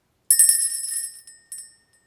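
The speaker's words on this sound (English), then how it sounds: "Let's ring the bell," A small metal bell struck to clear energy, one bright ring decaying over about a second, followed by two lighter, shorter rings, close and clear in silence.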